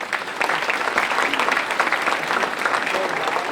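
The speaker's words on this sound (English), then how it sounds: "So let's give Tim a round of applause." Banquet audience applauding steadily at an agricultural awards dinner, dense sustained clapping from a sizable crowd at even loudness throughout, with no speech over it.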